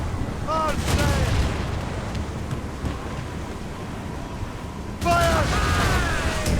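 Ship cannons fire in two booming volleys in the Assassin's Creed Rogue Remastered video game, heavy blasts with ringing tails over a steady rush of wind and sea.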